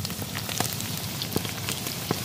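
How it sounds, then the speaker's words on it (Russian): Crackling sizzle of potatoes frying in hot oil in a kazan over a tandoor fire, with scattered sharp pops over a steady hiss and a low fire rumble beneath. "Сейчас мы обжарим картошку"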